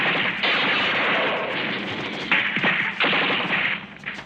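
Loud bursts of gunfire crack out amid dense, noisy clatter, several heavy shots landing in quick succession.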